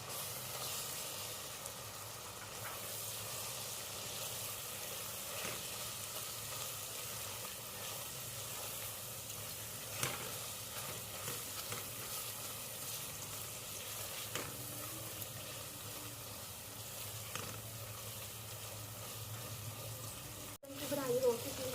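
Shredded chicken frying and being stirred in a pan, a continuous soft sizzle with occasional stirring scrapes, fairly quiet and steady, ending with a sharp knock.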